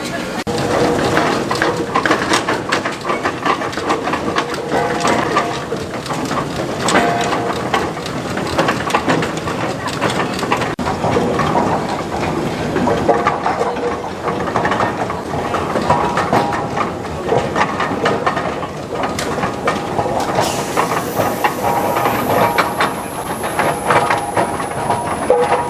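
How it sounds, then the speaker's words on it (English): A 1915 Robey steam tractor built in Lincoln, England, runs at a transport event, giving a busy mechanical clatter and rhythmic chuffing, loud and close, with crowd noise around it. "here's one of the engines we brought along with us, Roby steam tractor Village Queen, built in Lincoln, England in 1915"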